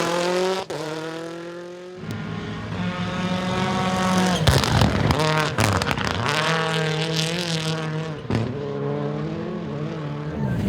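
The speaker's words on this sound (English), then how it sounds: "with a blast on Timaru Raceway as the final timed special stage" Hyundai rally car blasting around Timaru Raceway on a final timed special stage, engine revving hard through gear changes and rising and falling as it passes, loud and close with no talk.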